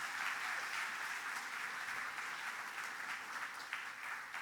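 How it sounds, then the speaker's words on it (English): Sustained applause from a gala audience at an innovation foundation awards event, a steady dense wash of many hands clapping at moderate distance, no voices over it. "So you can clap for Lee."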